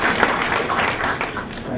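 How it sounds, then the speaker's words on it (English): Dense applause fills the room at a forum discussion session, a steady wash of many hands clapping with a few voices mixed in. "can I ask for a round of applause for our discussion?"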